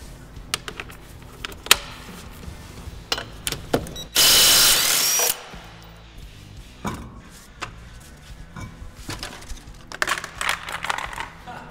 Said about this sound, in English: We're going to take the wheel off using a 19 millimeter socket.